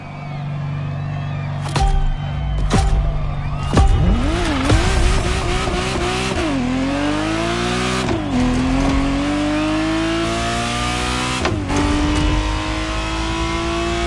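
Ferrari Testarossa engine in the racing game Motorfest, revving loudly through rising and falling gear changes with sharp shifts and a steady high drone, close and continuous with no talk.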